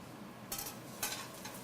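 Garlic and onion sizzle in a pan as the base of a marinara sauce, a quiet frying hiss broken by three bursts of sharper crackle as the pan is stirred, with no voices.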